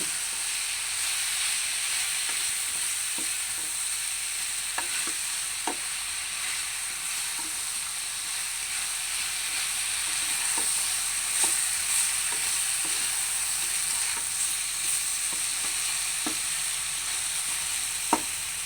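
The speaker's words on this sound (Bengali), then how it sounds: "কিছুক্ষণ এইভাবে নাড়াচাড়া করব" Elephant-apple pickle cooks in a pan with a steady, even sizzling hiss, while a spoon stirs it with soft, scattered clicks throughout, close and alone.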